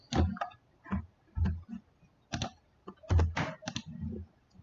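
Typing on a computer keyboard, irregular bursts of sharp key clicks in short clusters with brief pauses, close and moderately loud with no talking.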